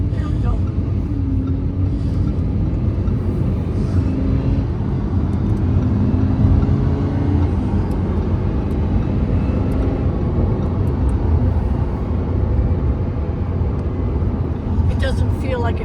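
A Lamborghini Huracan cruises at speed, its steady low road and engine roar filling the cabin without a break, while people talk over it.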